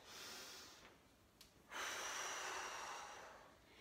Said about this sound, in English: Big breath in through your nose. Blow it out through your mouth nice and hard.